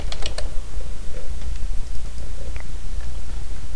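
Quick bursts of clicking keystrokes on a computer keyboard, close and crisp, clustered early then scattered sparsely, over a low steady hum with no talking.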